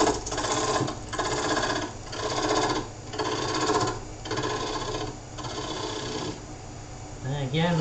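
A lathe tool walks side to side across a funnel under recovery, slowly shaving off material; a close, continuous rasping cut pulses in rough one-second surges over a steady machine hum.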